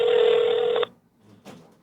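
An old telephone line rings back during an outgoing call, one loud steady ring tone that stops abruptly, followed by a brief faint click or rustle.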